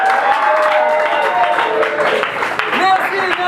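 Audience applause and cheering welcome a comedian at a graduation ceremony in Paris, a loud, dense clapping that holds steady throughout with scattered cheers.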